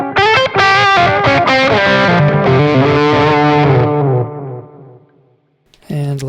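Electric guitar played through the Zoom G3Xn multi-effects processor's Tube Screamer overdrive with analog delay, loud, sustained driven chords and notes ringing out, decaying into near-silence before a brief new strum at the end.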